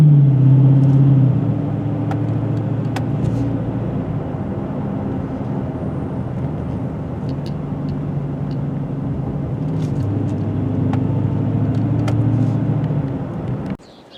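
A 2023 Dodge Challenger 392 drives at night, its engine and road noise holding as a steady low rumble that swells around the tenth second, before dropping away abruptly at the very end.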